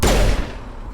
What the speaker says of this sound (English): you can really see how much snappier the gunfire is